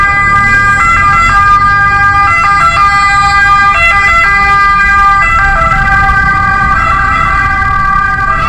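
A loud emergency siren wails close by in Naples, Italy, its two-tone pattern repeating continuously over traffic rumble.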